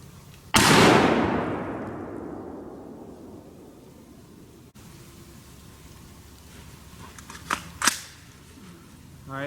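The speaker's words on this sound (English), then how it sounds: "first I'm firing the full metal jacket M193 ammo" A single loud rifle shot of .223 full metal jacket M193 ammunition, a sharp crack with a long decaying echo, followed later by faint clicks and handling noises.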